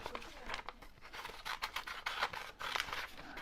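Scissors snip steadily through scrap paper in quick, crisp cuts, with a dry scratchy rasp between snips; close and fairly quiet, no talking.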